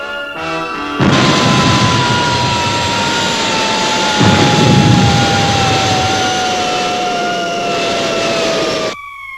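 Spaceship retro rockets firing, a loud sustained roaring jet-like blast with a high steady whine slowly falling in pitch, starting abruptly and cutting off after several seconds.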